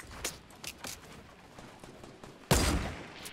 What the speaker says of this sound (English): Wait, who's shooting at me now?